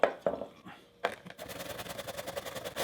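Potato and onion grated by hand into hamburger meat in a bowl make a close, scraping rasp, a few separate strokes and then a rapid repeated grating rhythm.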